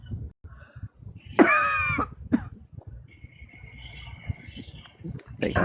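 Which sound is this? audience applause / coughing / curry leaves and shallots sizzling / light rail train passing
coughing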